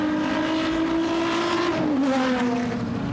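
A BMW straight-six Group A race car engine howls steadily at high revs at Goodwood, its pitch holding then dipping briefly, loud and close without any talking.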